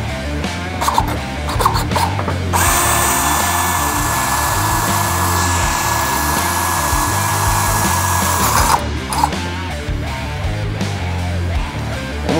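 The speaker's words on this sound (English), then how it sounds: "Drill a hole." A power drill boring a hole through a stainless steel exhaust pipe for an oxygen sensor bung, a steady high whine lasting several seconds between bursts of handling clatter.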